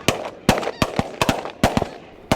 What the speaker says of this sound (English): a fusillade of shots rings across the field